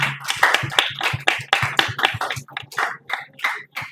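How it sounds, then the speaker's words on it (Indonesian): A camp audience at a scientific scouting event claps, loud sharp hand claps in quick irregular bursts from a small group close by, steady for a few seconds. "Beri tepuk tangan untuk"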